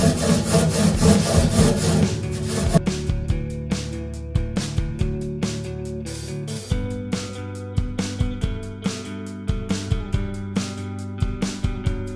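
Kitchen chimney filter being scrubbed with Vim dish soap, a loud rhythmic back-and-forth rasping that repeats steadily, heavier and denser at first, then in short regular strokes, with no talking.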